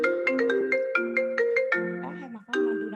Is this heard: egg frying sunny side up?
no